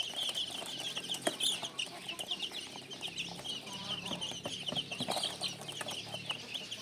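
A golden broody hen clucks repeatedly with a steady, low murmuring rhythm, close by on a small backyard farm among other chickens.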